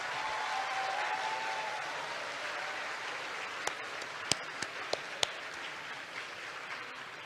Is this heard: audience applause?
yes